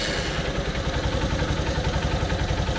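A small carburetor engine runs nearby at a steady, rapid idle with a continuous rattling pulse and no one speaking over it.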